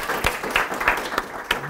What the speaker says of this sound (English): Can we give them a quick round of applause before I do the Q&A?